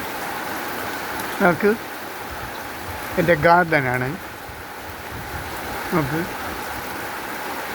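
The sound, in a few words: heavy rain falling on a garden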